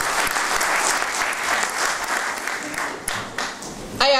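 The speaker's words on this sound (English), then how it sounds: "a big round of applause for all those people that worked so hard back then" An audience claps in a sustained round of applause at a Derrytresk anniversary night gathering, dense and fairly loud throughout, with a brief louder burst of clapping or cheering near the end.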